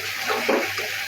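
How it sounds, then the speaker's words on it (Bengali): Water pours into a pan where pumpkin is frying for a katla fish curry, giving a close, rushing splash mixed with sizzling that swells briefly in the middle and then settles. "আর এই যে মিষ্টি কুমড়াটা কষাই নিতে পানি দিচ্ছি।"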